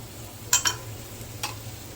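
Quiet stirring of chopped bitter gourd sautéing in a pan with a faint background hum, marked by a couple of sharp scrapes and a softer clink later, and no talking.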